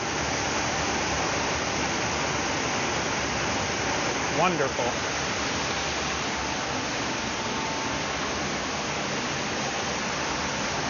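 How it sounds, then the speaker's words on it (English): The indoor waterfall at Gaylord Opryland Hotel in Nashville pours in a dense, steady rush heard from close by, with one brief spoken word partway through. "Here we are, behind the waterfall."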